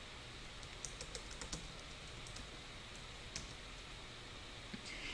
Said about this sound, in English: So let me type it in.